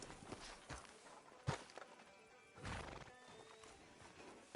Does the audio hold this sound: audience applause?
no